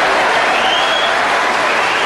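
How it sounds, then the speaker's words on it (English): Snooker audience applause after a frame finish at the 1992 World Final, dense and loud, filling the whole moment without pause. "a round of applause there for a nice finish by Jimmy White."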